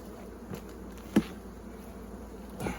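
Honeybees buzzing at a hive during an inspection, a faint continuous drone with a soft thump or two nearby and no talk.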